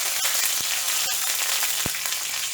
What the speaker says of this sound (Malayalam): പിന്നെ കുറച്ച് കറിവേപ്പില ചേർക്കാം.